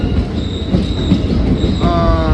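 Steady rumble of a train running on rails through a long tunnel, with a thin metallic squeal and rhythmic wheel noise, loud and close.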